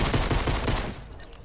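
A rapid burst of gunfire from a pistol in the Fortnite video game, loud and dense over the first second before trailing off into quieter game noise.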